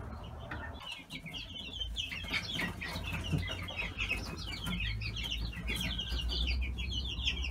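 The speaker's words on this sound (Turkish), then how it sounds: "Bayağı bir civcivlerimiz var." Chicks in a chicken coop give a constant busy chorus of high, rapid peeping, with low clucks from adult hens underneath, close and steady throughout, without speech.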